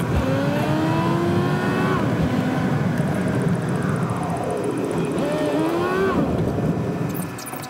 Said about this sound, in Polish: Z tyłu też kolejne auto.